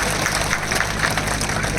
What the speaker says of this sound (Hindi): मैं चाहूंगा एक बार आप आदरणीय मुख्यमंत्री जी के सम्मान में जोरदार तालियां बजा के आप